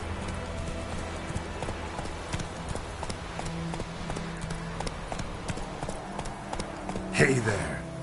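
Horse hooves clip-clop in a steady trot across a grassy stretch in The Witcher 3, close and continuous beneath ambient game music, with a louder burst of activity near the end.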